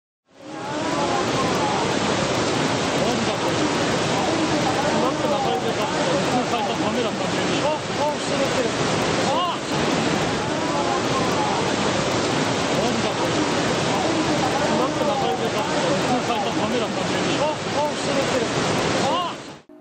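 Tsunami waves surge in a continuous, loud, broadband roar of rushing water and surf that holds steady throughout, with no pauses.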